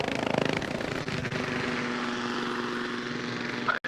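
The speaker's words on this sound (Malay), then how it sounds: "Helikopter lalu atas kepala." A helicopter passes overhead in the military video game Arma Reforger, a loud continuous rotor and engine drone with a steady whine, holding close throughout before a brief click at the end.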